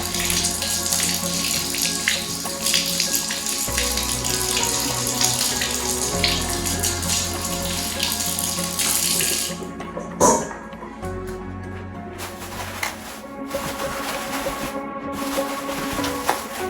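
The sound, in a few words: rinsing dill under running tap water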